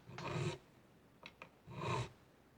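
Metal file grinding down the fret ends on a Stratocaster-style guitar neck, two close, faint rasping strokes about a second apart with a couple of small taps between them.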